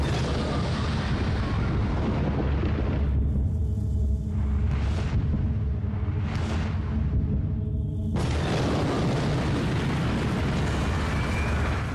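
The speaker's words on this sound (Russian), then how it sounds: "Взрыв толстяка мощностью в 22 килотонны в тротиловом эквиваленте порождает облако температуры свыше 4000 градусов по Цельсию" The 22-kiloton Fat Man atomic bomb exploding over Nagasaki gives a loud, sustained roaring blast with deep rumbling, which dips into a lower swelling rumble before surging back to a dense roar, with no voices.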